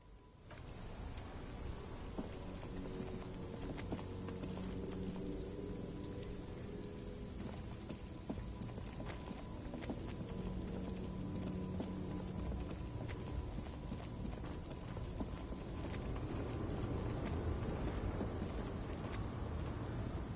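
Ambient rain in the video game Disco Elysium falls in a steady, even patter with soft dripping, continuous and unbroken, with no talk over it.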